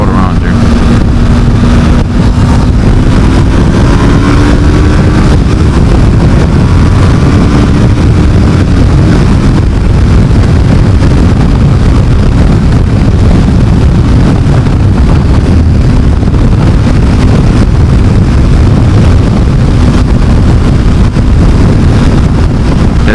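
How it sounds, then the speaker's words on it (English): Heavy, constant wind buffeting roars across a microphone while riding a motorcycle on a freeway, loud and unbroken throughout, with faint engine and traffic hum beneath. "this wind is actually really obnoxious"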